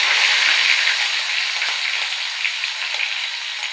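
Crushed garlic fries in hot oil in a pan, giving a loud, bright, continuous sizzle that eases off slightly toward the end.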